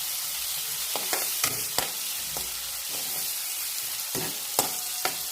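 Chopped onion frying in a pan gives a soft, steady sizzle with scattered sharp crackles and a few stirring scrapes, heard close at low volume.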